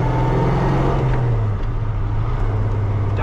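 A 1967 Pontiac LeMans engine drones steadily from inside the car as it drives and moves through the gears, with a low, even hum that rises slightly in pitch mid-stretch and stays loud throughout.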